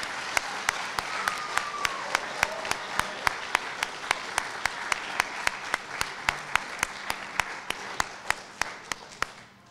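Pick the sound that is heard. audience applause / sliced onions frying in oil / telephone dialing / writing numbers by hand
audience applause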